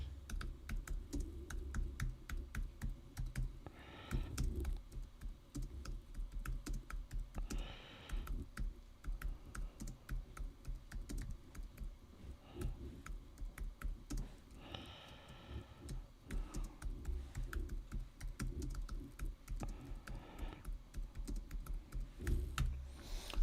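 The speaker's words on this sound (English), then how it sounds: "I had to type a message." Continuous typing on a computer keyboard, a rapid patter of clicks with brief pauses, fairly close and moderately loud, with no talking.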